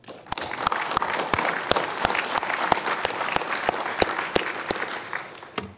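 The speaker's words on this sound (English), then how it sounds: "Please join me in giving them a round of applause." A round of applause from the audience at an international forum on Korean unification in Washington, D.C.: steady crowd clapping with distinct individual claps standing out, moderately near, without talk.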